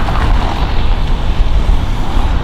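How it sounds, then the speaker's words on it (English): Strong, cold wind blows outdoors in the city of Vilnius, a steady loud roar buffeting the microphone with no pauses. "It's pretty windy out here right now"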